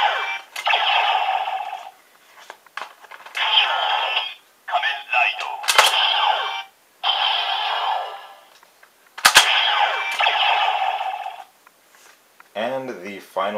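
A DX Diend Driver toy belt from Kamen Rider Decade plays its final attack ride effect, a series of loud electronic blasts and buzzing bursts with short gaps, ending in a quick warbling tone.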